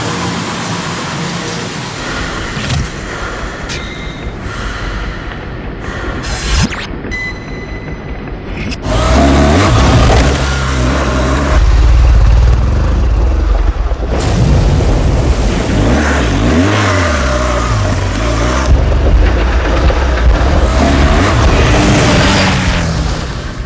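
A 2013 BMW R 1200 GS motorcycle accelerates, its boxer engine note rising from quieter running to a loud, rough roar that surges and climbs in pitch through the gears.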